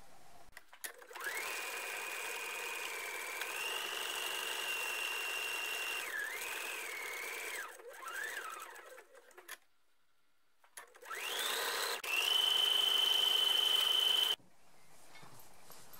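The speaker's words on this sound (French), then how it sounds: "maintenant, je vais faire ma couture sur mon headband" Sewing machine stitching along a fabric headband, a steady close whirring run in long stretches with a brief pause midway, then a faster, higher burst before stopping.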